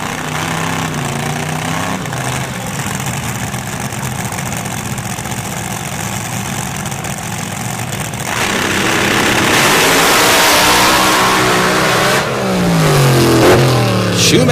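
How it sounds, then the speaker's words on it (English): A supercharged 540 cubic inch Boss Ford drag racing engine with a Whipple blower and nitrous idles with a loud, rough drone, then surges into a roaring rev that swells and dips before climbing again. "stage with that 540 cubic inch Boss Ford power plant with a 1-speed transmission and a 3-disc slipper clutch."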